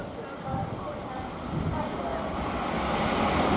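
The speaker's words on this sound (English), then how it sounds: "now passing by, we've got a 387 heading to Heathrow Terminal 5" A Class 387 electric train bound for Heathrow Terminal 5 passes at West Ealing on the Great Western Main Line, a rising rumble and rush that swells steadily and stays loud toward the end.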